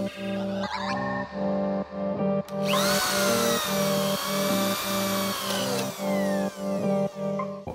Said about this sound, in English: I'm gonna start with a small drill bit first, obviously, just to be on the safe side.